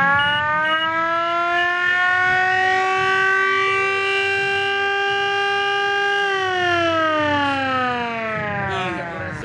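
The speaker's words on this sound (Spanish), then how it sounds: "Se acciona la sirena. Después se acciona la sirena más fuerte." Civil defense siren set off during a pendulum alarm simulation: a loud, sustained wailing tone that holds steady, then rises in pitch and slowly falls away.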